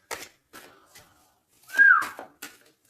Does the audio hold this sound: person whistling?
yes